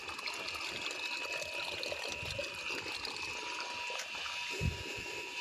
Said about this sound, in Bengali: এখান থেকে পুকুরে জল যেতেছে